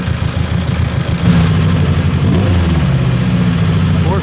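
A four-cylinder Ferrari engine runs at the 2017 Mille Miglia classic car event. It gives a close, loud, steady low rumble that thickens slightly partway through, like a throaty idle with light revving.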